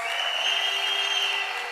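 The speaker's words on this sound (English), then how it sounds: "Give yourselves a round of applause." A big outdoor political rally crowd at Tunapuna applauds in one steady wash of clapping and cheering, lasting under two seconds at an even level with no speech over it.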